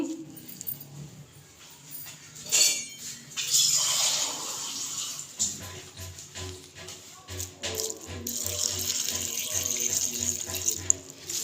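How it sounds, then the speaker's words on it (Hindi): Water runs and splashes into a bowl of cabbage in uneven bursts close by, with a dog whimpering and faint clinks of dishes in between. "इसके अंदर हम डालेंगे पानी।"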